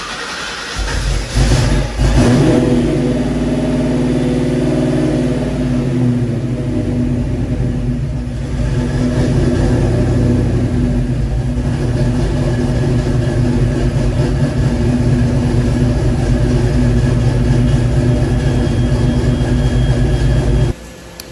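A Ford Foxbody Mustang with a 331 stroker V8, already somewhat warm, cranks briefly, fires up and settles into a loud, rough, lumpy idle with steady rumbling throttle blips up close before shutting off abruptly.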